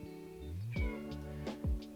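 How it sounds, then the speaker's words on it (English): A cat crying outdoors, a long drawn meow that bends in pitch followed by two shorter wavering cries, heard fairly clearly and alone. "Can you hear the kitty outside crying?"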